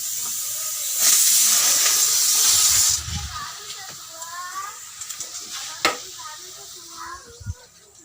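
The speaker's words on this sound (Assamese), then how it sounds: "দালি চিটি মাৰিছে" A pressure cooker on the stove whistles over cooking dal, a loud steady hissing jet of steam that cuts off abruptly, followed by softer kitchen clatter and someone talking.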